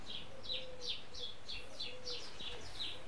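Birds outside a house give a rapid, regular series of high chirps at moderate distance, with a soft cooing call underneath and a faint hiss in the background.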